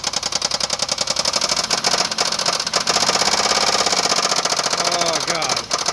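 A 2002 Chevrolet Equinox with the 3.4L 3400 engine runs with a loud, rapid mechanical knock that rises as it is revved, while people talk over it.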